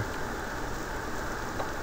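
Steady rain falling in the video game The Witch's House, an even, continuous hiss with no breaks, moderately loud and heard alone.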